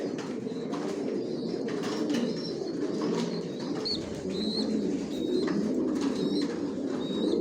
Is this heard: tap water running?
no